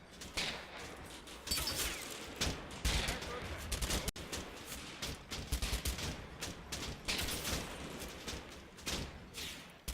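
Dense, continuous small-arms and machine-gun fire with overlapping bursts and booms sounds throughout a World War II infantry battle in Combat Mission Fortress Italy.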